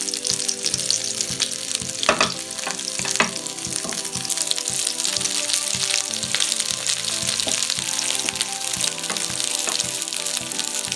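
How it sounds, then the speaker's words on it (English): Chickpea kebab patties shallow-fry in hot oil in a grill pan, giving a loud, dense, continuous crackling sizzle with occasional sharper pops, close up. "So now let's shallow fry them."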